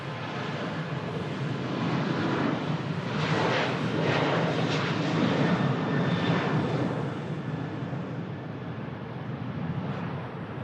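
A Ryanair jet from Malaga roars down the runway on its takeoff roll and climbs out, the engine noise swelling to a peak and then fading, with some wind buffeting the microphone.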